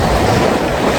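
Sea waves surge and wash steadily at Halian Island in Surigao del Norte, a loud, continuous roar of surf mixed with wind buffeting the microphone, with no voices.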